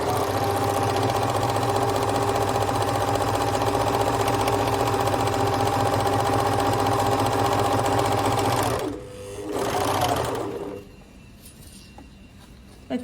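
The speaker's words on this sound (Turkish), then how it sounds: "3 iplik dikiş için kumaşımı yan altına koydum ve overlock'umu yapıyorum." A Tugi MK1881 overlock sewing machine running a 3-thread overlock stitch, a loud, fast, steady mechanical whir close by for about nine seconds, then it stops, a short burst follows, and it goes quiet.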